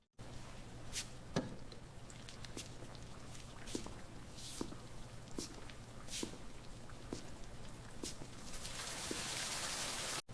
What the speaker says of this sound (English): Also the sound effects are on point, the heavy rain is there.